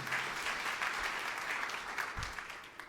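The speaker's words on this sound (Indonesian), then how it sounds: "Tepukan yang meriah untuk kemuliaan Allah." A church congregation breaks into applause during a sermon, a dense, even wash of clapping from many hands that holds steady for about three seconds and then begins to thin toward the end.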